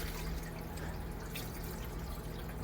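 Steady broadband rush of water flowing out of an outlet into a tank after an equipment upgrade, a continuous even wash with no talk over it.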